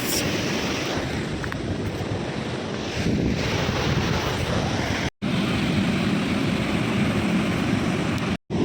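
Godchinmalki waterfall roars as a steady broad rushing wash, loud and unbroken apart from two brief dropouts, with wind buffeting the microphone.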